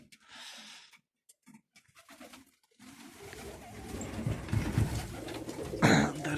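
Pigeons coo inside a loft during evening chores, soft intermittent calls at first, then a denser, louder chorus of cooing and rustling building toward the end.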